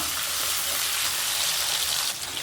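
Onions, garlic and curry leaves sizzle steadily in a pan for a Tamil taro tamarind curry, a loud, continuous close-up hiss with no pauses and no talking.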